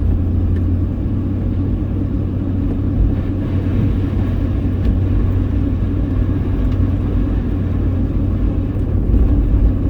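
A car in two-wheel drive travels a highway during a winter storm, with continuous heavy road rumble and tyre roar from inside the cabin and steady wind noise throughout.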